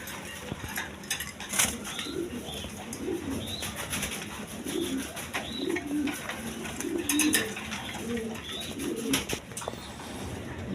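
Rajgolla pigeons coo repeatedly in soft, low, throaty phrases close by at a pigeon farm, with a few faint clinks of metal in the background.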